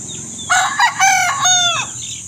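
Backyard chickens and chicks make a few close, loud squawking, clucking calls in quick succession.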